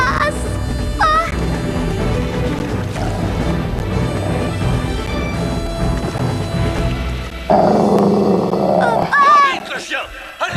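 A dog growling and barking amid a busy animated soundtrack with music and voices, the snarls rising into louder bursts toward the end.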